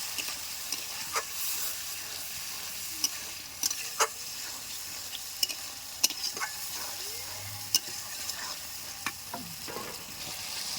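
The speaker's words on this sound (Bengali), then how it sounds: "কিশমিশ বাটা, আদা বাটা, শুকনো লঙ্কা, জিরে, ধনে সব মশলাই একসঙ্গে দিয়ে সুন্দর করে আমি কষিয়ে নেব।" Cashew paste, raisin paste, ginger paste, dried red chilli, cumin and coriander sautéed together in a pan, a steady soft sizzle with sharp utensil scrapes and taps recurring every second or so, no talking.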